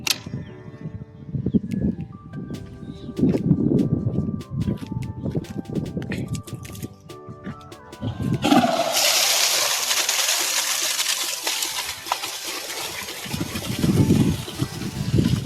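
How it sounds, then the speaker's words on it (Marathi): A water pump motor kicks in partway through, switching from scattered rustling and clatter to a steady, loud broadband whir that keeps running to the end. "मोटर चालू करू आता."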